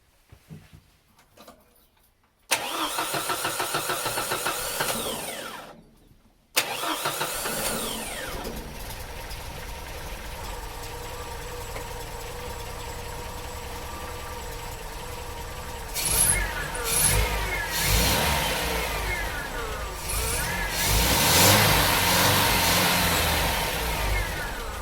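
An MG BGT engine cranks and catches, then idles steadily and is blipped with a few rising revs near the end, heard close up with no one talking.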